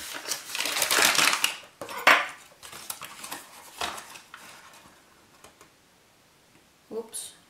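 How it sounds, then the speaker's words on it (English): A metal spoon scrapes and clinks against a mug as plain flour is spooned in for a Nutella mug cake, with sharp close taps in short bursts that fade into quieter clicks. "Then we're going to add 2 tablespoons of plain flour."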